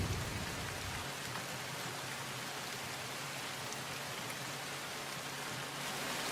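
Heavy afternoon downpour in Bharuch district, Gujarat, a dense, unbroken roar of rain on surfaces that stays loud and steady throughout, with no voices.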